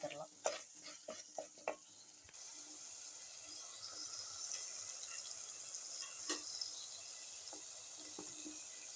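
Chicken gravy masala with salt being sautéed in a pan: several sharp stirring scrapes and clinks early on, then a continuous soft sizzle, with a few more spoon knocks later.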